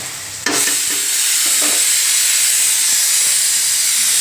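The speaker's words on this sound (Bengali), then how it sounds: "এদিকে পনিরটা ভাজছি" Paneer sizzles and hisses steadily in a hot pan, starting abruptly and continuing loud and constant, with a few faint clinks.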